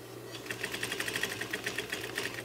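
A domestic sewing machine runs steadily through a back stitch, its needle chattering in a fast, even rhythm over a low motor hum. It is close and continuous, with no talking.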